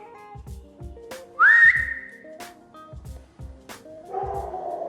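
A dog gives several short, sharp barks in an uneven rhythm, mixed with a rising whistle and a sustained tonal hum.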